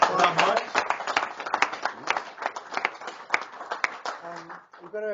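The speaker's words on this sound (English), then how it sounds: "Round of applause for Mike" Conference audience giving a round of applause, a dense burst of many hands clapping nearby that thins out toward the end, where a voice begins speaking.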